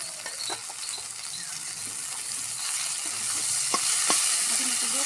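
Onions fry in a pan with a ground paste of coriander, cumin, green chilli, ginger and garlic. A steady, fairly loud sizzle runs throughout, punctuated by a few clicks of stirring, with no voices.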